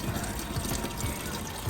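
Engine coolant gushes out of the oil pan of a Ford 3.5L engine with a bad water pump, a loud continuous splashing rush of liquid held steady throughout.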